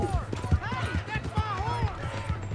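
A horse gallops in Red Dead Redemption 2, its rhythmic hoofbeats thudding under loud, overlapping shouting voices.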